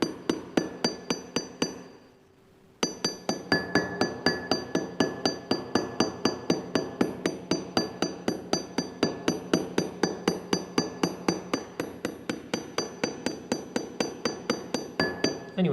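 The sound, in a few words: hammer peening brass rivet ends on leather tool belt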